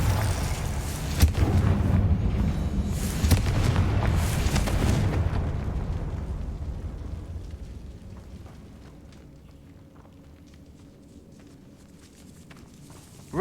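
Bombarda blasting spell explosions in the Hogwarts Legacy video game, a loud rumbling blast with sharp bangs over the first five seconds, then a long fading rumble and debris settling.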